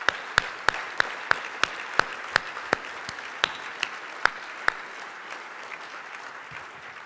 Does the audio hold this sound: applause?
yes